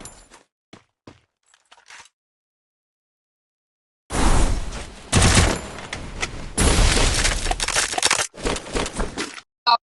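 Gunfire in a mobile shooter video game: a few faint clicks, then from about four seconds dense, loud bursts of rapid shots and fusillades running almost continuously to the end.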